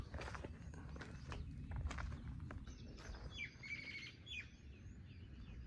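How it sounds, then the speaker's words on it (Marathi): Birds calling around a rural village in summer, faint chirps and squawks at a distance over low rustling and shuffling ground noise, with no talking. "गावी आल्याचं सुख म्हणजे पक्ष्यांचा किलबिलाट."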